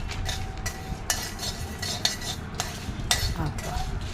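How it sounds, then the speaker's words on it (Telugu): Chillies and peppercorns fry in a pan for besibella bath while a metal spoon stirs and scrapes, giving repeated close clinks and scrapes over a low, steady background. "మిరప మిరియాలు అవి కూడా వేసేసి వేయించేసేయాలి"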